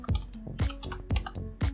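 Quick, uneven clatter of keys being typed on a computer keyboard, close and crisp, with several distinct keystrokes and brief pauses, no speech.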